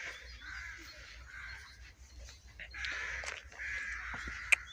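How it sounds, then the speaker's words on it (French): A crow caws outdoors beside a field during work on an electric car, giving a series of harsh, nasal calls that repeat in short bursts, moderately loud and fairly near, with no voices alongside. "Tais-toi, l'oiseau."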